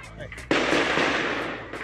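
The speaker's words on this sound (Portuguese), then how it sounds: "Dá para ouvir barulho de tiros." A sudden loud crack followed by a sustained burst of sharp popping, like rapid gunfire, with another shot at the end, during an attack on armored cars.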